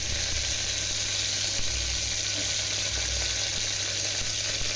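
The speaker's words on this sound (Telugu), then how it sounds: "శనగపప్పు, ఇంకా మినపప్పు యాడ్ చేసుకున్నాక అది కొంచెం ఫ్రై అయ్యాక" Chana dal and urad dal fry in oil with mustard seeds and cumin in a pan, giving a continuous, even sizzling hiss up close, steady without breaks, over a low constant hum.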